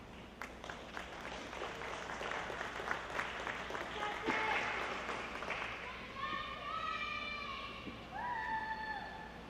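Spectators at a boys' swim and dive invitational cheer and clap from a distance, the applause building into whoops and high shouts, with echoing voices throughout.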